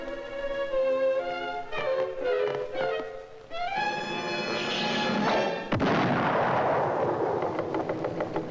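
Cartoon gunshots from the 1955 Looney Tunes short Pappy's Puppy ring out as a sharp, loud bang amid musical score, followed by a decaying crash and rumble.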